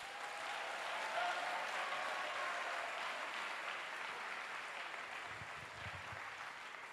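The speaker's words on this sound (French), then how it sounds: "Acclamez plus fort que ça." A church congregation at a French-language praise and worship service applauds steadily, a dense wash of clapping from many hands that swells early and then holds evenly, with a few low thuds near the end.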